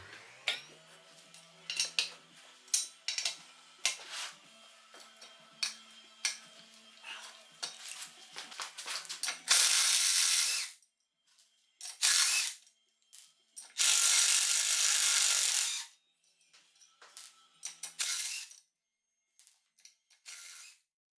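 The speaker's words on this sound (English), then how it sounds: "You can turn those bolts right off." Bolts come off the rear wheel of a BMW S1000RR sport bike: sharp ratcheting clicks and metallic clinks at first, then several loud, sustained bursts of harsh noise with near silence between them.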